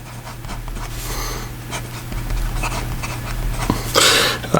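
An ensso Piuma fountain pen with a 1.1 steel nib scratches across paper in short strokes, faint scratchy bursts over a low steady background hum.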